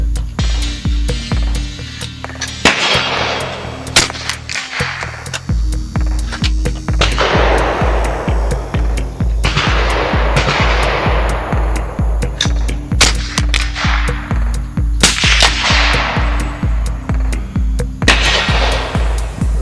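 Gunshots from a Ruger 10/22 rifle at a shooting range ring out as sharp, loud reports spaced several seconds apart, each trailing a decaying echo over a constant electrical hum.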